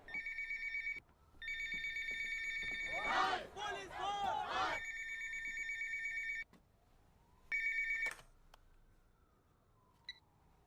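A telephone rings in a police commissioner's scene in a dubbed action film, with a steady electronic tone in long stretches broken by a burst of crowd noise and shouting, then a final ring before it goes quiet.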